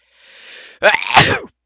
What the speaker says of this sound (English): I'm not gonna sneeze again